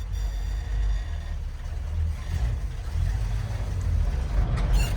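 An old GMC truck engine pulls away in fourth gear, a steady low rumble that swells slightly as it strains under load, close and continuous.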